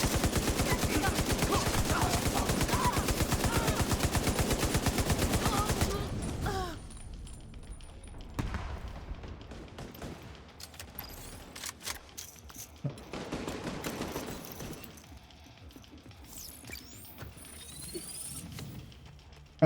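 Rapid automatic gunfire from shooting at enemies in the video game Division 2 rattles loudly for several seconds, then gives way to scattered, quieter bursts and shots.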